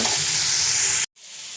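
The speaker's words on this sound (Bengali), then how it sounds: "এখানে আলু ভাজছি দেখো" Potatoes fry in a pan with a loud, steady sizzle and some stirring, cutting off abruptly near the end before a quieter hiss resumes; no talking.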